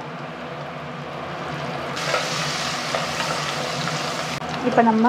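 Chopped tomatoes sauté in a hot pan with mint and coriander for biryani, giving a steady, close sizzling hiss throughout. A person speaks briefly near the end.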